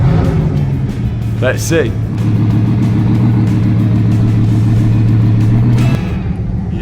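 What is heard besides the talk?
Bugatti Veyron car driving and revving on the road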